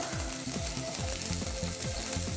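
Chopped onions sizzling and frying in a pan, steady crackling hiss close by with stirring scrapes, alone without voices.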